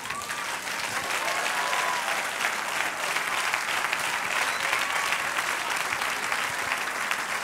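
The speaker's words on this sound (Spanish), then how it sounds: "Denle un aplauso al Señor." Audience applause fills a church during a Spanish-language sermon, a dense, steady wash of clapping from a large congregation that holds at full strength for the whole stretch without a break.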